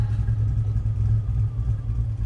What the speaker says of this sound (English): you hear that engine roaring?